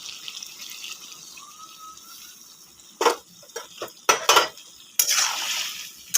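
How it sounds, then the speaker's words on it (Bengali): A bowl is rinsed and water poured into a cooking pot, heard as a quiet opening followed by bursts of splashing and pouring water with clinks of metal utensils, close by. "একটুখানি বাটিটা ধুয়ে জল দিব।"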